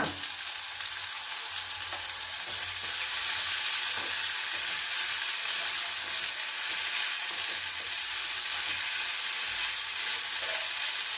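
Ivy gourd fries in a couple of spoons of oil, giving a steady, close crackling sizzle that holds unbroken and even throughout, with no voices.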